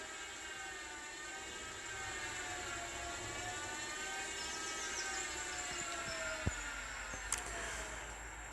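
A hacked Lexus GS300h hybrid drivetrain spins steadily with a smooth electric whir and high tonal whine, fairly quiet and continuous, with a couple of faint clicks near the end.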